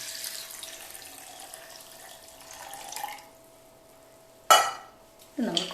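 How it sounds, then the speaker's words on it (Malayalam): Water poured from a container into a mint lime mix, a soft continuous splashing pour for about three seconds, then quiet, followed by a sharp splash and a short burst of pouring at the end. "പിന്നെ നമുക്ക് ആവശ്യത്തിനുള്ള വെള്ളം ഒഴിക്കാം."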